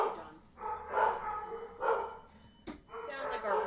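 A dog in the video game Luigi's Mansion barks in several short, rough bursts spread across a few seconds, under steady overlapping conversation.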